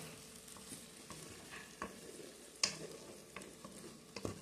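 Tomato stirred into a vegetable curry frying in a pan, with a steady soft sizzle and scraping stir strokes, sharper clacks of the spoon against the pan now and then, close and moderately loud, no talking.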